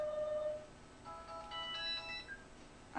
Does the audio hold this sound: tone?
yes